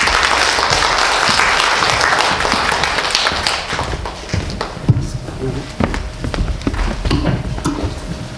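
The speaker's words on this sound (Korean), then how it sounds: "박수 부탁드립니다" Audience applause for a speaker at an education presentation in Daejeon, loud dense clapping that gradually thins into scattered individual claps, with voices heard over the later part.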